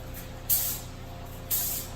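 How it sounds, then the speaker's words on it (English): Clear coat from an aerosol can sprays onto a 1972 Buick Centurion dash pad in two short, close hissing bursts about a second apart over a low background hum. "This stuff is ready to spray right out of the can."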